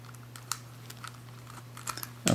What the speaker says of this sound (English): You heard all that clicking, this is me straining the puzzle.